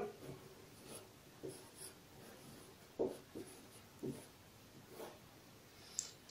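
A pen scratches on paper as shirt measurements are written down during a tailoring lesson, heard as faint, short, intermittent strokes in a quiet room.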